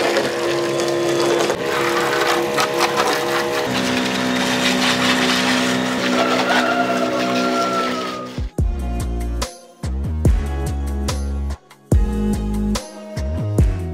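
A homemade sprayer machine runs in jet mode to wash a scooter, giving a steady loud motor-driven hiss for about eight seconds before cutting into choppy on-off bursts.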